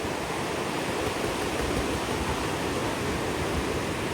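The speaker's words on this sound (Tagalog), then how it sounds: "Malaki ng alon" Big sea waves surge and wash against a small fishing boat out at sea, a steady, close, loud rush of water and spray filling the whole moment without pause.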